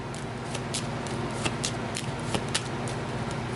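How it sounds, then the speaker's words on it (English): A turn order card deck for the Aeon's End board game being shuffled, a soft steady riffling with a few sharper card snaps, close and fairly quiet. "We'll give the turn order deck a shuffle."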